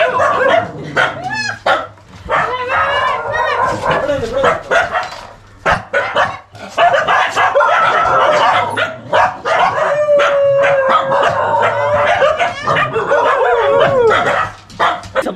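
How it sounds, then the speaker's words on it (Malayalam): Fifteen dogs packed into one small room bark, yip and howl at once, a loud, near, overlapping clamour of excited barking and whining that rarely pauses. "15 പട്ടികളാണ് ഈ മുറിക്കകത്തുള്ളത്."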